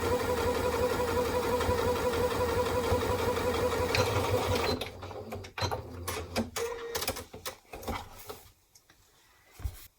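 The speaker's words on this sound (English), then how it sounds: "go ahead and run a row of stitching across the bottom of the pocket to secure it to this panel" A sewing machine stitches a row across the bottom of a tote bag pocket with a steady, close, rapid mechanical whir. It then stops, followed by scattered clicks and handling knocks.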